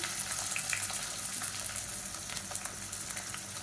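Long-sliced onion and garam masala fry in hot oil for biryani, giving a soft, even sizzle with faint crackles that continues steadily without any voices.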